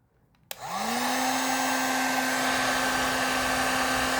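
A heat gun switches on with a click and runs as a steady, loud blowing whoosh with a constant whine, heating waterproof butt connectors.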